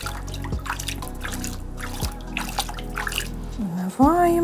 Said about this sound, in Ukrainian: водичка гарна, файна. Як джакузя, джакузя для рослинки.